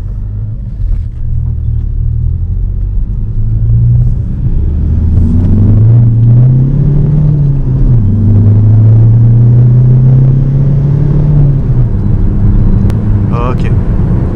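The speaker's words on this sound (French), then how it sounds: "on va faire une petite accélération, on va voir ce que ça donne" A Ford Focus 3 ST diesel fitted with a stage 3 turbo accelerates, its low engine rumble rising in pitch over several seconds before easing off, close and loud, with faint mechanical clicks near the end.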